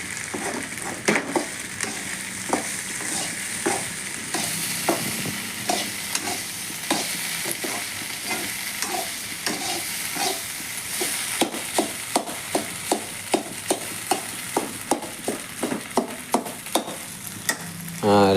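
Egg poriyal sizzling in a pan while being stirred, with steady frying hiss and a run of sharp, regular scraping clicks from the spatula that get louder and quicker toward the end, with no talking.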